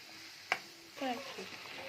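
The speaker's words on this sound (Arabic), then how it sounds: "وهنبدأ نقلب الخليط ده كله" Beef liver with peppers, diced tomatoes and spices sizzles softly in a pan while being stirred, with one sharp utensil clack against the pan and a quiet, steady frying hiss, close by.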